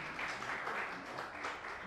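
Brief burst of audience applause at a French-language talent show, a soft, steady patter of many hands clapping with faint voices mixed in.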